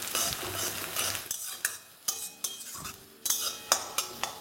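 Onions with a few slit green chillies frying and stirred in a pan for an egg and potato dish, with a steady soft sizzle broken by sharp clicks and scrapes of a utensil against the pan.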